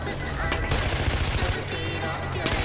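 Continuous game gunfire in Far Cry 4, dense rapid bursts like automatic weapon fire running throughout, loud and close, with a speaking voice underneath.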